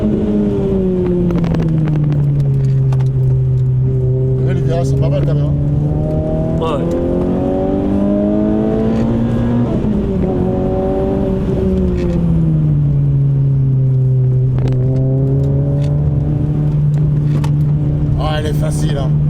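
A Renault Clio 3 RS with a naturally aspirated engine and manual gearbox accelerates in third gear, its loud engine note rising and falling continuously from inside the car while someone talks over it.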